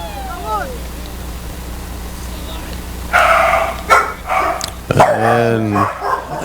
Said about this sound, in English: the dogs are out here at Margate tonight